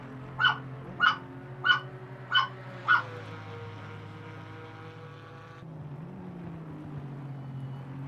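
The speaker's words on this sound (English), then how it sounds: "I do apologise for the dog barking." A dog indoors gives five sharp, evenly spaced barks close to the microphone over a steady low hum of racing-sim engine noise, then falls quiet while the hum continues.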